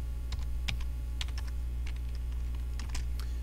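Fingers tap on a computer keyboard in quick irregular bursts of soft clicks, close and quiet over a low steady hum.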